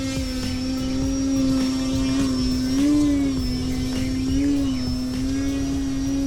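An E-flite Timber RC airplane with snap flaps set holds a hover, its propeller giving a loud, steady buzzing drone that swells slightly in pitch now and then as the throttle is worked.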